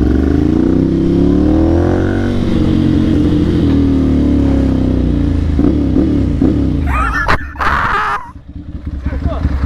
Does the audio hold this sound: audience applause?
no